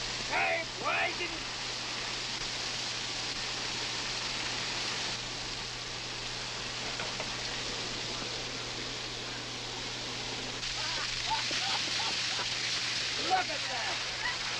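Water gushing up from a well on a 1943 western ranch: a steady, hissing rush of spraying water that runs continuously, with voices shouting and talking over it at times.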